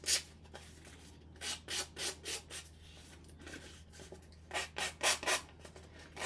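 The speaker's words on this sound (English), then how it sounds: "So I'm just holding it kind of tight and just rubbing it across the edge." Ink being rubbed across the edge of cardstock to distress it, a series of rhythmic, close, breathy scrubbing strokes in two clusters over a faint steady hum, no voices.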